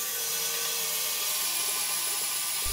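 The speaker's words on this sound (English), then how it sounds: "Drill the bolt holes in the first half." A power drill bores bolt holes through the flange of an archival jacket half, a steady, close, high-pitched whirring that runs continuously with no voices.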